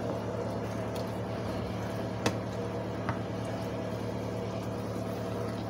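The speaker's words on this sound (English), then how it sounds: "I got the fan on here in the background." Steady electric fan whirring in a kitchen, a constant even hum holding level throughout with two faint brief clicks over it.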